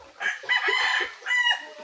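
A rooster crows loudly and close by on a farm lot in Nasugbu, Batangas, in a long call followed by a shorter second one, with no other sound around it.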